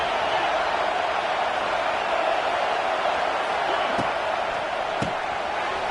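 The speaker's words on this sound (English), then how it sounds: "Listen to the crowd energy here in the early going" A stadium crowd at an American football game roars as a dense, steady wash of noise throughout, loud and continuous, with a couple of sharp cracks late in the stretch.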